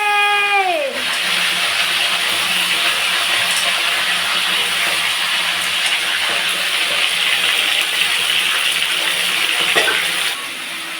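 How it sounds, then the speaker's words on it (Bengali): Chicken pieces frying in hot oil in a pan, a dense, steady sizzling hiss that holds at an even level for about ten seconds before easing slightly at the end. "তেল গরম হয়ে যাওয়ার পর চিকেনটা গরম তেলে দিয়ে দিতে হবে"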